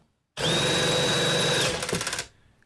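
A Milwaukee M12 Fuel drill/driver runs at full speed under a torque-test load, a steady loud whine that ends in a quick burst of rapid pulsing before it stops.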